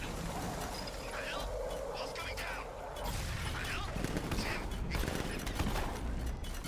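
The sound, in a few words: gunshots in the video game Palworld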